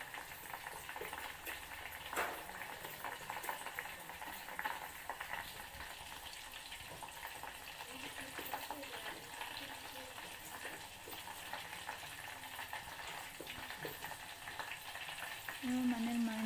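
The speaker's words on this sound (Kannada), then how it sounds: "ಹೀಗೆ ಕುದೀತಾ ಇರಬೇಕು." Homemade herbal hair oil boiling in a pan, a soft steady sizzle and bubbling crackle that runs continuously at low volume, with a brief clink near the start and a slight swell at the end.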